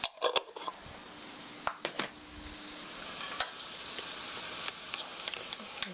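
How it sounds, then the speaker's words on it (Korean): Doubanjiang chili bean paste stir-frying in a pan for mapo tofu, a soft steady sizzle with a few sharp clanks of a utensil near the start and occasional light taps later. "그 1미닛 1분 정도 볶아주세요"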